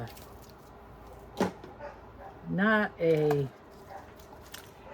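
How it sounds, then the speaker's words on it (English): A dog barks a few times at a short distance, a couple of sharp yelps, followed by a voice with audible speech in the room. "What is she barking at?"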